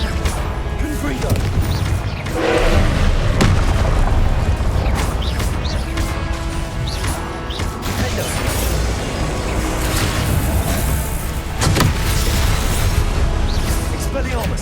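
Confringo explosive spells go off in the Hogwarts Legacy video game, loud booms, crashes and bursts layered in chaotic combat under shouted spell incantations.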